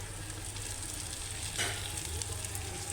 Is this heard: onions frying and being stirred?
yes